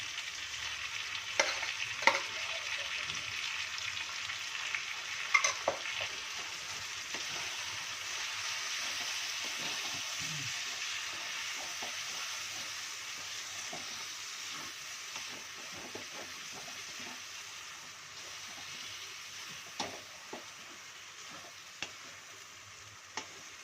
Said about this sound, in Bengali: এবার আমি ডালটা মিশে দেবো